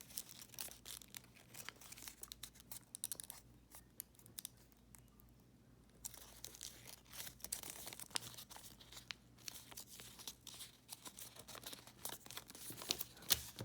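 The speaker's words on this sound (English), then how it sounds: "Fold it up, fold it in half," Quiet paper handling while folding an origami crane, with soft crinkling, rustling and sharp creasing scrapes, faint and close with no voice.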